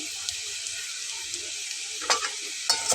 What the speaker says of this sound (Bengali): সবগুলো মশলাকে খুব ভালো করে নেড়ে চেড়ে মিলিয়ে নিয়ে